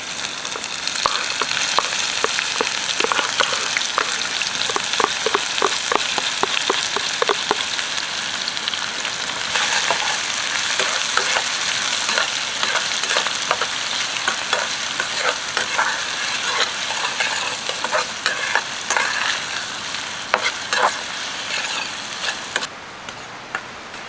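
Onions frying golden brown in a pan over a campfire in a winter forest, with a loud steady sizzle and crackle and a rapid run of spoon taps and scrapes, close up with no speech.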